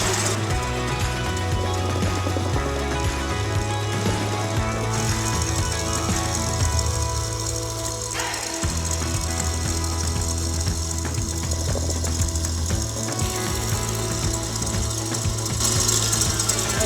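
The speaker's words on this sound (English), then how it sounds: "we're gonna mix this together until we have some nice peaks" An electric mixer whips egg whites into peaks with a steady mechanical whirring and rattling hum, close and continuous, shifting pitch a few times as the speed changes.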